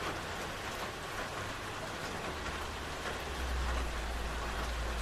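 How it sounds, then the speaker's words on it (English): Steady rain falls and patters on surfaces nearby, an even, dense hiss with a low rumble underneath and no voices. "Sound of rain is soothing."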